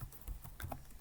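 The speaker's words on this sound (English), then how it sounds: "What we are going to do next is type ipconfig." Brief burst of computer keyboard typing, a few quick key clicks entering a command, close and fairly soft with no talking.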